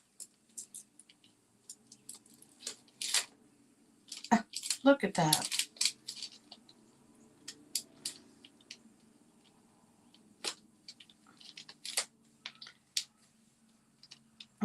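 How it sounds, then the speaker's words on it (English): Scissors snip through paper while a card is being crafted, with short crisp cuts coming in scattered clusters between stretches of nearby talk. "let me use my scissors"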